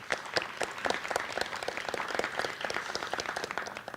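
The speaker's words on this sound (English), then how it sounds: "So let's give them a round of applause." Audience applause for volunteers at the Madison Cup debate tournament, with steady dense clapping from a sizable crowd sustained throughout, moderately loud and fairly close.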